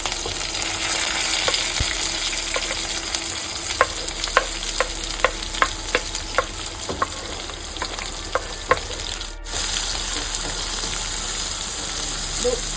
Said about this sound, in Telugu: ఆనియన్స్ అయితే గోల్డెన్ కలర్ వచ్చే వరకు అయితే ఫ్రై చేద్దాం